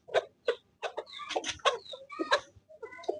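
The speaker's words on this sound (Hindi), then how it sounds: "ये रहा मुर्गा।" A rooster and hens clucking at close range on a home farm with chicks nearby, a run of short, sharp calls and clucks spread through the moment, loud and clear with no talking.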